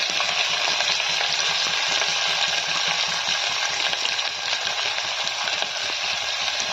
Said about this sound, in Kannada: ಇದಕ್ಕೆ ಹೆಚ್ಚಿಟ್ಕೊಂಡಿರೋ ಈರುಳ್ಳಿ ಹಾಕ್ತಾ ಇದ್ದೀನಿ. ಇದಕ್ಕೆ ಕರಿಬೇವು ಸೇರಿಸ್ಕೊಳ್ತೀನಿ.